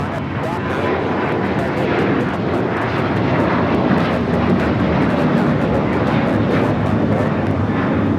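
An American airliner takes off at night from runway 25 right at LAX, its jet engines a loud, continuous broadband roar filling the whole stretch, while a voice talks over it.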